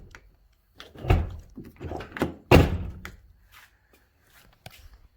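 Pickup truck doors on an LB7 pull truck closing, several muffled thunks and latch clicks spread across the clip, one loud solid close in the middle, then quieter knocks.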